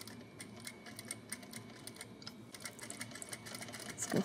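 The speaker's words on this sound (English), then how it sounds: "I'm gonna do some back stitching." A sewing machine back stitches fabric for a simple scarf, a quiet, rapid, even clatter of needle strokes close by, running steadily without pause.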